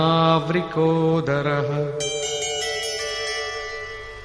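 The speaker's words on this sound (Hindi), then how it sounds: "ऋषिकेशः, जो हृदय के सर्वस्व ज्ञाता है, उन कृष्ण ने 5 जन्य शंख बजाया।" A conch shell, the Panchajanya blown by Krishna in a Bhagavad Gita chant, sounds as a sustained, strongly harmonic tone held steady for several seconds, fairly loud and alone, easing off toward the end.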